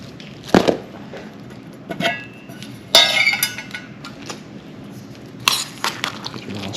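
Utensil stirring a hiking meal in its cooking pouch: scattered clinks and scraping rustles at an irregular rhythm, close and fairly loud, with no talking.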